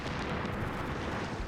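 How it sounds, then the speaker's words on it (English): Naval shelling explosions land near a beach in D-Day live-fire footage, a dense continuous roar of blasts and rumble with no distinct gaps, loud and steady throughout. "It shows how close the explosions are to the rookie soldiers."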